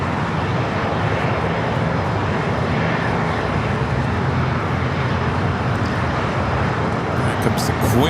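Boeing 747 in blue livery at LAX, a constant dense roar of jet engines filling the scene at steady loudness for several seconds, with speech audible faintly beneath it.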